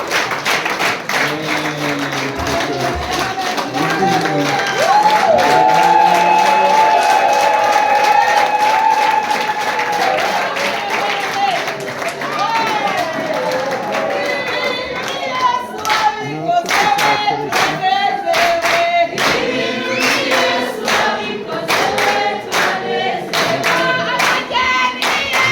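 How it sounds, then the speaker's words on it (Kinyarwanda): Audience clapping at a wedding celebration, dense and sustained throughout, with rapid irregular hand claps forming a continuous wash, and a melodic voice or music carrying over it in places. "Mwongera amashyi rwose."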